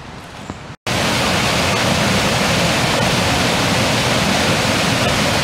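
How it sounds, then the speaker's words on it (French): Faloche waterfall pours in a dense, continuous rushing roar that starts abruptly after a brief quiet moment and stays loud and even throughout. "Les chutes de Faloche."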